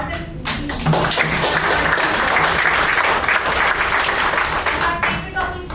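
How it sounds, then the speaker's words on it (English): An audience at a club meeting bursts into loud, close applause that carries on steadily for several seconds, with a few voices faintly mixed in. "I really applaud them"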